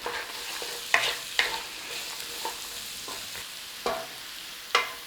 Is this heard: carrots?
yes